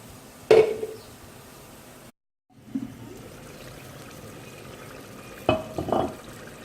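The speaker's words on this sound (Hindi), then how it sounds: "अब हम इसको 5-10 मिनट तक इतना पकाएंगे ताकि सारा पानी इसका खुश्क हो जाए" Chicken handi with tomatoes simmering in a pan: a quiet, steady sizzle broken by a few sharp stirring clatters near the start and end, with a brief silent gap in between.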